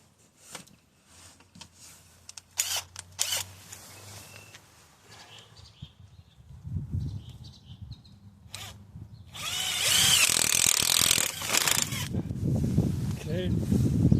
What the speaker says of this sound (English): So here we need a spade bit the same diameter as this bar. So we're going to drill a hole right about here.